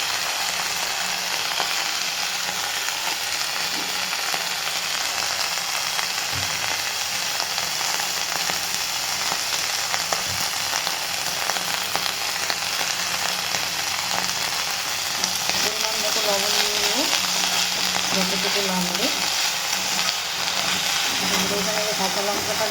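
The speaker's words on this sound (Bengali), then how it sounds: "এই যে কাঁচা লঙ্কা দিয়ে একটু ভালো করে ভাজা ভাজা করে নেবো।" Coffee leaf paste with salt and green chillies sizzles steadily in a hot pan, a continuous close frying hiss with occasional scraping stirs.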